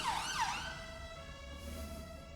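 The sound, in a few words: passing emergency vehicle siren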